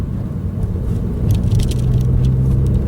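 A car with a manual six-speed transmission drives in third gear, its engine a continuous close, loud low drone with faint rattles on top and no voices.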